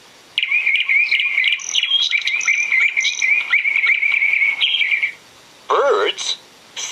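Birdsong in a springtime setting: a continuous, bright trilling warble carries steadily for about five seconds, then a brief pause before a couple of sharper, rising chirps close it out, with no voices present.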